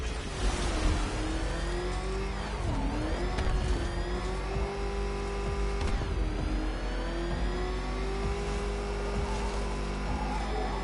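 A video game car engine revs hard and whines through gear changes, the pitch climbing and dropping in repeated sweeps, loud and close for about eleven seconds with no voices.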